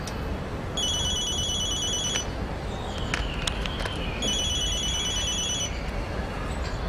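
A telephone rings in two long electronic bursts with a gap between them, heard at moderate loudness over a steady background hiss, with no talking.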